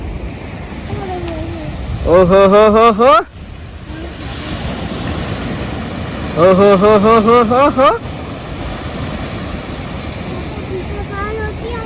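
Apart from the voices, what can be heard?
sea waves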